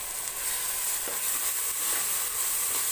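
Fenugreek leaves frying with ground masala in a pan give a loud, continuous sizzle and hiss, with a few soft stirring scrapes underneath.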